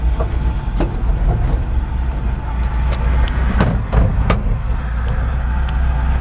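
A 1957 Chevrolet truck with a big back window drives along and pulls off the road, giving a loud, low, steady engine and road rumble inside the cab with scattered rattles and clicks.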